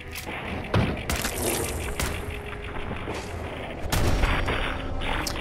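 Bursts of gunfire aimed at a bug in Fallout 4, loud and close, with sharp repeated shots and a heavier thump near the middle, set against steady game ambience.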